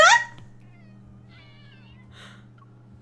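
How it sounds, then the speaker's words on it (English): A cat character in the video game Love and Deepspace lets out a loud, high meow at the start, followed by softer chirping mews over a steady low game hum. "What are you meowing about, kitty cat?"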